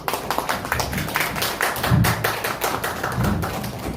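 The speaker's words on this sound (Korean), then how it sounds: "여러분 힘찬 박수 드리겠습니다" Dense applause from the audience at a YouTube association founding ceremony and sponsorship day, steady and fairly loud across the whole stretch, with low thumping hits mixed in and no speech over it.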